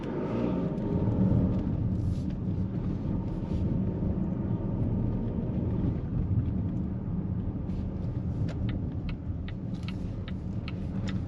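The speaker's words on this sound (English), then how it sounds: "You do get quite a bit of road noise from the tires on the bumpy, rough surface." A 2021 Volvo XC90 diesel (1969cc) cruises over a bumpy, rough road surface, with a constant low tire rumble and road roar filling the cabin, punctuated by occasional faint knocks and rattles.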